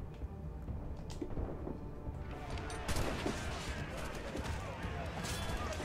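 Ship cannons fire in a naval battle in Assassin's Creed Rogue. Heavy booms and crashing impacts come in bursts over a rumbling background, growing louder and denser partway through.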